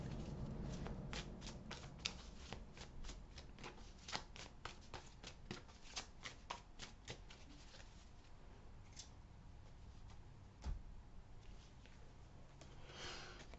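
Tarot cards shuffled by hand at close range, a quiet run of rapid riffling flutters and soft slaps with short pauses between bursts, no voices.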